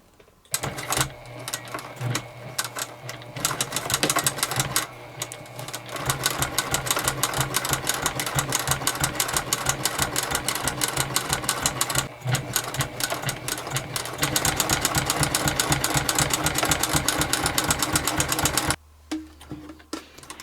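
A sewing machine runs long stitches through a leather notebook cover, whirring in steady rapid bursts with short pauses between runs, close and loud, with no voices.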